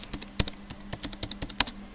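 A short burst of typing on a computer keyboard, with quick, uneven clicks and clacks of individual keystrokes heard close and clear, with no voices.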